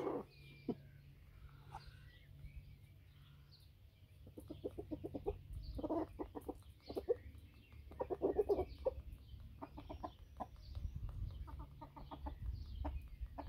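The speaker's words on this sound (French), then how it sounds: "Il y a le coq qui chante." A rooster calls from a distance during spring gardening outdoors, and scattered clucks and short bursts of sound rise above a quiet, low rumbling background.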